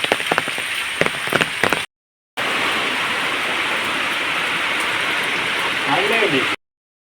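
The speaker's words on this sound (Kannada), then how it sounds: "ಮಳೆ ಲೈಟಾಗಿ ಬರ್ತಾ ಉಂಟು ನಿಲ್ಲಿಲ್ಲ" Light rain patters steadily on surfaces in a village farmyard, a dense even hiss that drops out briefly and then returns at the same level, with faint clicks early on.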